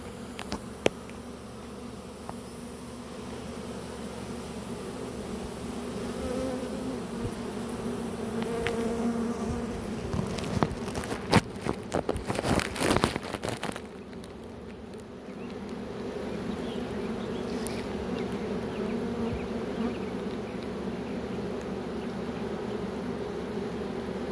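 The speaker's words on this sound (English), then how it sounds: "we got 2 queens this morning and a bunch of bees" A dense, steady buzzing of a swarm of bees hums throughout, with a louder, crackling stretch in the middle before the drone settles again.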